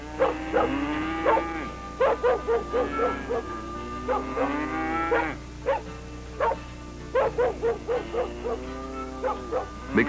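Several cattle moo and low repeatedly, overlapping calls with a dog barking in quick bursts among them, close and fairly loud.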